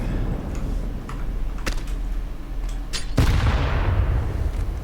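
An HE grenade exploding in Counter-Strike on the Ancient map: a loud, sudden blast with a rumbling, decaying tail, preceded by scattered sharp clicks and distant gunfire-like pops.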